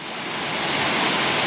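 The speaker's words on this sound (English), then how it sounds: "we finally made it to the Lower Gold Creek Falls. A really pretty waterfall" Lower Gold Creek Falls, a small waterfall six to seven meters high, pours in a steady broadband roar that stays loud and close throughout, with no voices.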